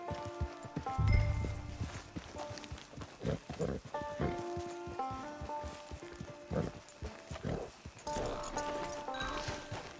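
Horse hooves clip-clop at a walk in a Red Dead Online camp, an uneven run of soft thuds under a bed of game music and ambience with no voices.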